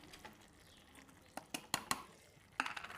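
Drumsticks being stirred in a cooking pot for a Goan recipe, a handful of sharp clinks and scrapes of a utensil against the pot, spaced unevenly over a quiet background, with a louder cluster near the end.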